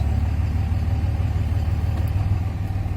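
A truck with a 47RE automatic transmission and about 350k miles runs steadily while being shifted through its gears, a continuous low engine rumble with a slight pulsing quality, close and alone without voices.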